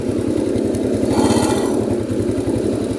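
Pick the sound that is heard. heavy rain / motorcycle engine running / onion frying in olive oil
motorcycle engine running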